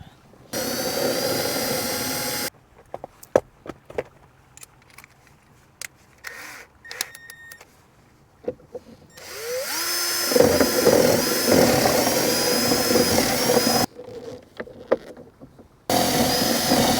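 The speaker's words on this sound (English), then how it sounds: "So our clever plan is to drill that and see if that releases it." A power drill bores into the door lock of a 1991 Honda Accord in a few separate loud, harsh bursts, with quieter gaps of scraping and tapping between them.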